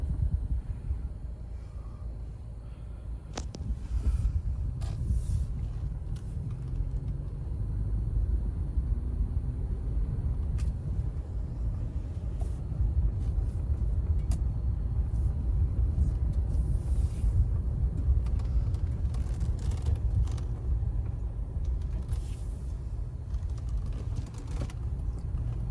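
A garage-kept, never off-roaded 2007 Toyota FJ Cruiser on the move, with a steady low engine and road rumble throughout, plus faint creaks and small mechanical clicks from inside the cabin.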